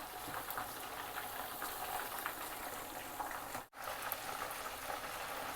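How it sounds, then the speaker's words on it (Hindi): Chicken fries in a pan for a masala fry chicken dish, giving off a dense, continuous sizzle close by. The sizzle drops out for a brief instant partway through. "अब चिकन को फ्राई होते हुए तकरीबन 5 से 6 मिनट हो चुके हैं।"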